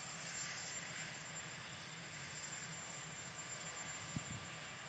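Marine One, the presidential helicopter, departs the White House: a faint, distant, steady engine roar holds evenly throughout, with one brief soft knock near the end.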